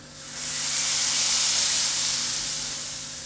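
Hot spiced tempering poured over a pot of dal makhani gives one loud, steady sizzling hiss that swells quickly and holds for about three seconds before easing slightly, close up with no talking.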